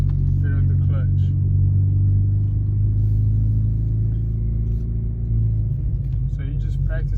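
A manual sixth-generation Chevrolet Camaro easing away in first gear, its engine a steady loud low drone that rises slightly near the end, heard under someone talking.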